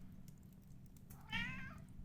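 A cat named Nucky lets out one short, faint meow near the end of a quiet stretch, heard indoors over a low background hum.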